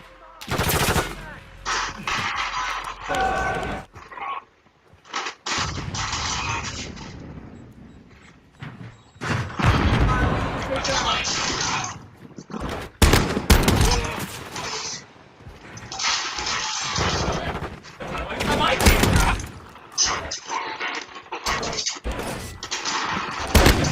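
Rapid shotgun blasts and gunfire from Modern Warfare 2 played with no attachments at an indoor map, loud bursts repeating irregularly across the clip with short gaps between volleys.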